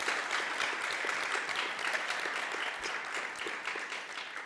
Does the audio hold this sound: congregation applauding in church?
yes